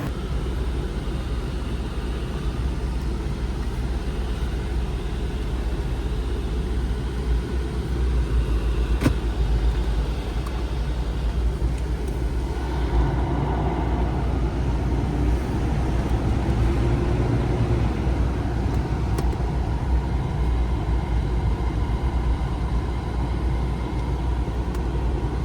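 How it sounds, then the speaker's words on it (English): A Land Rover LR3 drives on a test drive with a steady, continuous engine and road rumble heard from inside the cabin, no talking. "It's best to drive it around the block and see what it does. So let's take it for a test drive."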